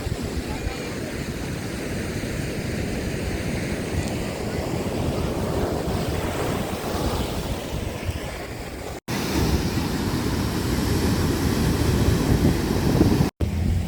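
Sea waves wash onto the beach at Mandarmani on the Digha coast during high tide, a continuous rushing surf roar with wind buffeting the microphone and brief cutoffs.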